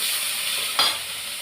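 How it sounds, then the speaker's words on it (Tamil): Vegetables with onion and curry leaves frying in a pan with rock salt, a dense bright sizzle held steady throughout, with one brief scrape of stirring partway, close and alone without voices. "நல்லா வதக்கட்டும்."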